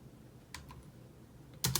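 Typing on a computer keyboard while resetting a Raspberry Pi password, with a few faint isolated key taps, then a quick louder pair of clicks near the end.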